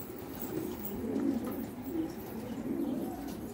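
Levantine (Shami) tumbler pigeons coo nearby in low, throaty, repeated rolling phrases that rise and fall over a quiet background.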